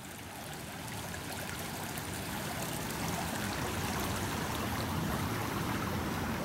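Creek water at night in cold weather with ice along the banks, flowing as a steady broadband rush and trickle that stays constant and fairly close throughout, with no voices.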